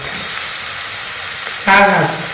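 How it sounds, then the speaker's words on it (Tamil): Meat is dropped into a pan of frying onions for salna, with a steady loud hiss of oil and a sharper burst of sizzling near the end as the meat hits the pan. "இப்போ கொஞ்சோண்டு கறி அதை போட்டுக்கிறோம்."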